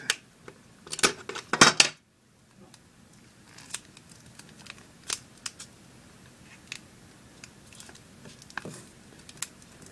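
Tape is pulled and wrapped around a rolled paper rod, heard as crisp ripping and crinkling bursts early on, then quieter scattered rustles and taps.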